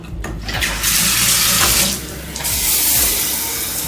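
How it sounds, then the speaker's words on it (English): A hotel bathroom shower running in normal spray mode, a loud, steady hiss of water pouring and splashing nearby, with small surges and no voices. "So it works fine on the normal shower mode, except the spray spreads out more than it's supposed to"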